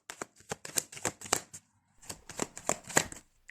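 Tarot cards being shuffled up close in two quick bursts of riffling, crisp flutters and soft slaps separated by a short pause, with no talking.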